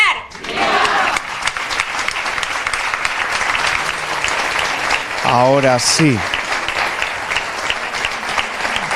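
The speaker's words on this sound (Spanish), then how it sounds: "con este aplauso dedicado a la Virgen del Pilar" Sustained audience applause for the Virgen del Pilar at a festival proclamation event in a cultural hall, a steady wash of many hands clapping throughout, with a brief spoken phrase and a whistle partway through.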